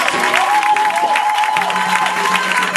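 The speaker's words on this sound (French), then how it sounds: "Il faut vraiment acclamer le Seigneur Jésus" Church congregation clapping to acclaim the Lord Jesus: steady, fairly loud applause all the way through, with sustained organ or keyboard tones behind it.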